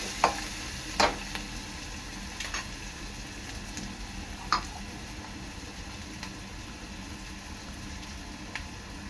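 Onion frying quietly in a pan, turning reddish, a soft steady sizzle with a few sharp ticks and clinks of a utensil scattered through, no voices.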